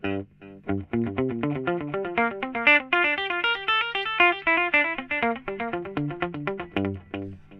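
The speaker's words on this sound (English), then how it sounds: "One other really cool effect with this is that if you set the delay time" Electric guitar played through a delay pedal, a quick run of bright, distorted notes with repeating echoes trailing each one, forming a dense rhythmic cascade.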